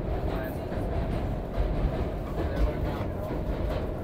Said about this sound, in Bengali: আমাদের ট্রেন এখন পাস করছে কিউল নদীর উপর দিয়ে।